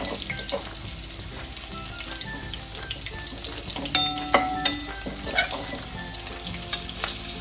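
Okra sautéing in hot oil in a pan, a steady loud sizzle with sharp clicks and scrapes of a spatula stirring, clustered strikes near the middle, no voices.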